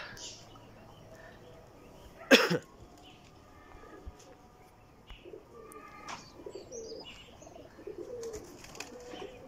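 Pigeons coo softly on a rooftop, with a sudden loud burst near the start and scattered small sounds and faint voices around.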